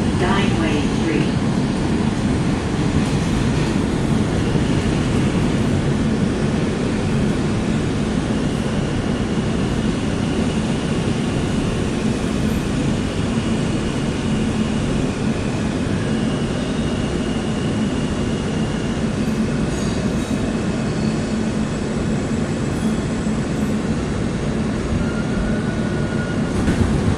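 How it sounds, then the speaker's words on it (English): An R160 Kawasaki subway car on a New York R train runs underground with a constant loud rumble and rattling wheels on track, steady throughout, with faint announcements in the background. "This is a Forest Hills 71st Avenue bound R train."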